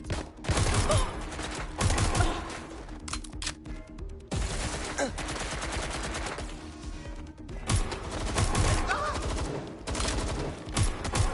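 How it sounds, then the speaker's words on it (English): Sustained gunfire in the video game Watch Dogs Legion, dense rapid bursts and fusillades rattling through most of the scene with brief lulls, loud and close, with faint voices mixed in. "They're shooting at us."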